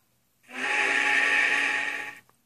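A steam locomotive whistle in the Trainz railway simulator, a single sustained tonal blast with a breathy hiss lasting nearly two seconds, loud and close, with no talk.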